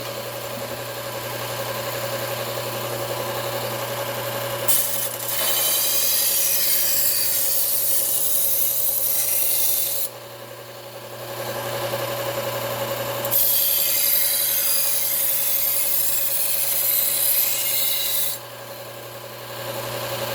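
A Cuisinart kitchen knife is sharpened to raise a burr, giving long, even scraping strokes over a steady mechanical hum, two sustained passes separated by brief pauses, close and loud.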